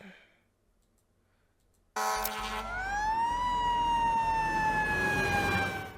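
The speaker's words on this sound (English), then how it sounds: "Even an old man could hear this siren from a mile" A loud fire engine siren bursts in after near silence and holds a steady wailing tone, sliding slightly as it sounds close by.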